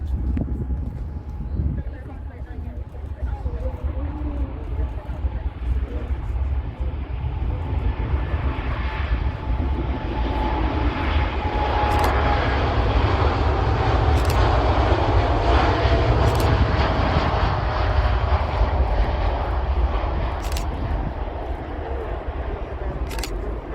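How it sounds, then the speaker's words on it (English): A Boeing 787 departs runway 23 right at Manchester Airport with a loud, sustained jet engine roar that builds and holds steadily throughout, with a rising whine and wind buffeting. "the next aircraft to depart on runway 23 right is a Boeing 78"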